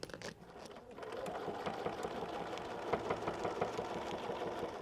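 A sewing machine runs a seam on a quilt, a faint continuous motor hum with a rapid needle tick, steady throughout.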